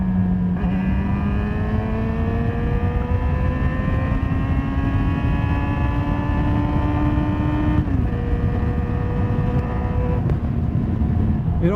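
Yamaha XJ6 inline-four LAMS motorcycle engine pulling hard, a loud, close drone rising steadily in pitch through the gears with a brief dip at a shift, under wind roar.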